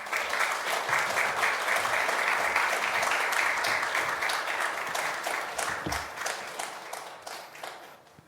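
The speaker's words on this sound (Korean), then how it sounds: "오늘은 좀 뜨거운 박수로 격려하면서 환영해 주시기 바랍니다" A church congregation at a Wednesday service applauds to welcome the pastor, a dense, warm round of clapping from a large room that holds steady, then thins and fades out.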